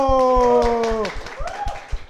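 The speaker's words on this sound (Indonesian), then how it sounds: "Tepuk tangan untuk produser Popo." An audience at a live comedy show claps in brisk, evenly spaced beats for producer Popo, running under a drawn-out voice and continuing through the chatter that follows.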